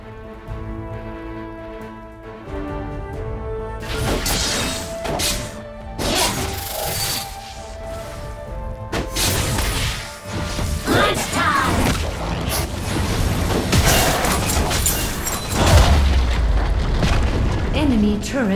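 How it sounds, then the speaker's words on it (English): An enemy turret is destroyed in the mobile MOBA Wild Rift amid loud game combat: repeated booms and crashing impacts over layered music and effects, with an in-game voice announcer speaking. "Enemy turret destroyed."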